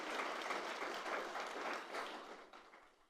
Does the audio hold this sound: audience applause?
yes